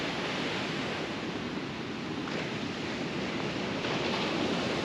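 Ocean waves break steadily on a beach during a lull between bigger sets, making a continuous broad wash of surf with a slight swell near the end, no voices over it.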